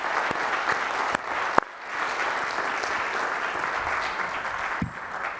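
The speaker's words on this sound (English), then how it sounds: "so if you would give a round of applause and thank you" A keynote audience applauds the event sponsor with a dense, even roar of clapping that holds steady throughout, broken by a few sharp close claps and knocks, with no speech over it.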